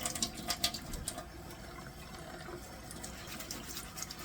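Tap water runs steadily as a KaBar BK2 survival knife is rinsed underneath, producing a continuous splashing hiss with a few louder spatters near the start, close and alone.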